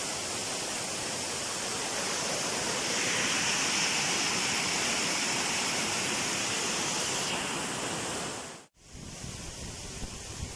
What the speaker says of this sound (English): you've seen the waterfall earlier